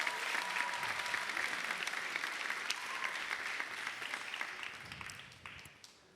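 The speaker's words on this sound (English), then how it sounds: "Please give them a big round of applause." Sustained applause from a pageant audience at a state finals night, loud and dense at first and then thinning and fading out toward the end, with no talking over it.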